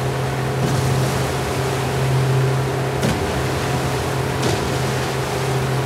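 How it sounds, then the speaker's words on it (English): Ocean waves wash around a motorboat in The Last of Us Part II, a continuous broadband rush of water over a steady low engine drone, with a few brief louder splashes, no speech. "Ooh, the waves, man."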